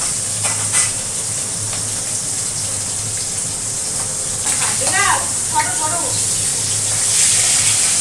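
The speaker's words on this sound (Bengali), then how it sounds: "এখন মাছগুলো ভেজে নিচ্ছি, মাছ দিয়ে দিয়েছি, মাছ ভাজা হচ্ছে।" Fish pieces fry in a pan with a steady, loud hissing sizzle that runs throughout, while a voice is briefly heard midway.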